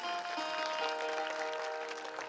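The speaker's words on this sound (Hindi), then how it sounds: "चलिए एक जोरदार ताली बजाइए अपने लिए" Audience applause at a Hindu Bhagwat Katha religious discourse, a brief burst of clapping from a gathered crowd, fairly faint and distant, with a steady sustained tone running beneath.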